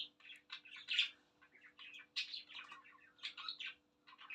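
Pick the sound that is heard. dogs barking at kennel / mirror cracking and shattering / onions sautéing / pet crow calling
pet crow calling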